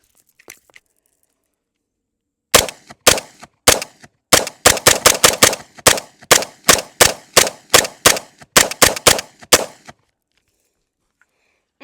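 A Sig MPX 9mm carbine fires about twenty loud, sharp shots in quick, slightly uneven succession, then stops, with nothing else around them.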